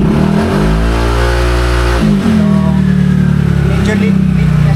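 A Honda ADV160 scooter fitted with a power pipe and a remapped ECU revs loudly up close, its engine note rising and falling through two strong pulls, then climbing again.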